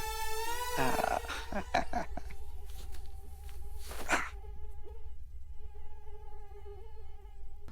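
Several mosquitoes whine in a high, thin buzz that fills the whole stretch, loudest and densest early on, with a few soft knocks and a brief rustle partway through.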